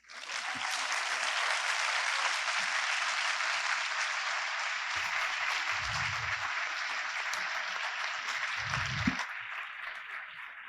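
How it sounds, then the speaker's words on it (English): Sustained audience applause for panelists at the close of an international security conference, a dense steady wash of many hands clapping from start to finish, with a few low thumps near the end. "join me in a big round of applause for the panelists"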